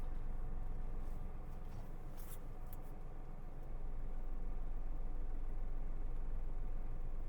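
Steady low car engine hum from inside a car during a beginner's driving lesson as it slows and moves straight, a continuous rumble with a slight rise in level partway through and no talk.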